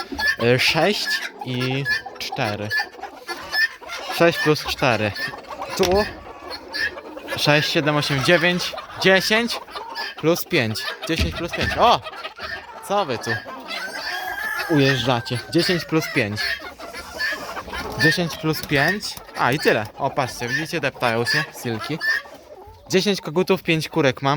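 Chickens cluck and squawk continuously nearby, a busy flock chattering in overlapping bursts, with a person talking now and then among them.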